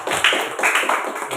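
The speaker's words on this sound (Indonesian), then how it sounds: "tepuk tangan untuk kelompok 2" Applause from a classroom of students for a student group, a short burst of scattered claps at close range with no talk over it.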